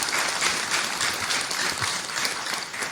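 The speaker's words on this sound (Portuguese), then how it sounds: "eu acho que a gente merece uma salva de palmas aqui pela sua vida de resistência." An audience at a Brazilian committee hearing on asbestos gives a round of applause, dense steady clapping from many hands filling the room at moderate loudness for a few seconds.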